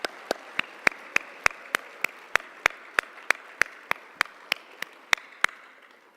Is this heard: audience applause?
yes